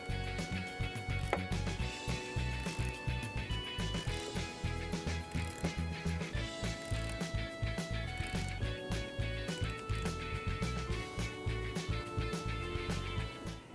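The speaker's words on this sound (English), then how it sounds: "replace the negative battery cable onto the negative battery terminal and retighten the fastener" Ratchet wrench clicking in quick, steady strokes while tightening the fastener on the negative battery terminal of a Subaru Outback, close and fairly quiet, with short pauses between runs of clicks.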